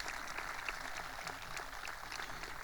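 Audience applause fills a graduation ceremony as a steady, dense crowd clapping, moderately distant and unbroken throughout.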